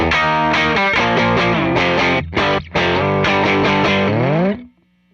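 An electric guitar played through a Twilight Pulse Audioworks Konstante drive pedal rings out in a run of sustained, harmonically rich distorted notes and chords, loud and close, with no talking.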